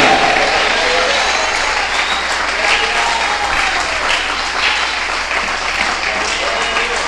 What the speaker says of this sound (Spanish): Denle un aplauso que camine bien.